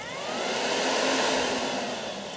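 An electric radiator fan on a BMW K75 motorcycle runs with a steady, loud whirring rush, continuous and unchanging throughout with no talk.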